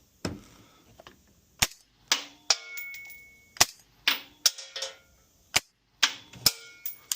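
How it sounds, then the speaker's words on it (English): A 5.56 rifle fitted with a suppressor fires about a dozen sharp, clipped shots at irregular intervals, each a loud close crack with a short metallic ring and quiet gaps between. "these are the quietest 556 suppressors ever known to man"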